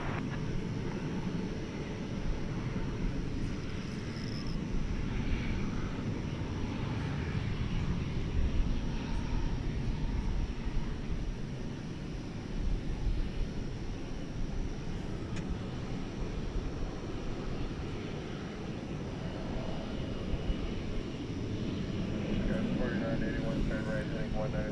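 A Boeing 747 jet airliner bound for Europe roars steadily at DFW Airport at night, a broad, continuous engine rumble close by, with radio chatter heard over it.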